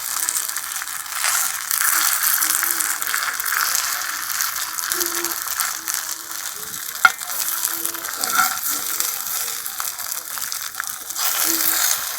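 Semolina lightly frying and being stirred in a pan, a continuous soft hiss and rustle with occasional faint scrapes and one sharp tick, moderately loud and close, with no talking.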